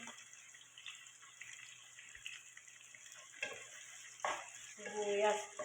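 Chopped onion fries quietly in a pan, a soft, steady sizzle with occasional light clatter and a brief voice near the end.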